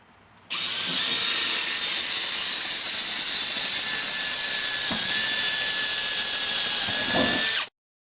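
A power drill bores holes into the metal body of a 1972 Oldsmobile Cutlass for a spoiler, a loud, close, steady high-pitched whine running for about seven seconds before cutting off sharply.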